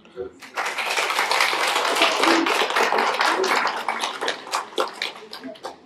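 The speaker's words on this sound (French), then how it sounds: "J'aimerais bien qu'on les applaudisse." Sustained applause from a crowd at a town community meal, dense and steady at first, then thinning into scattered individual claps before fading out.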